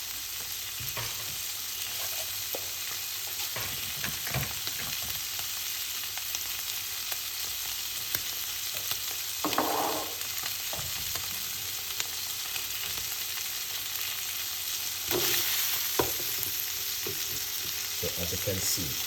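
Salmon fries in a pan with a continuous close crackling sizzle, broken by several short scrapes and knocks as the fish is moved and turned.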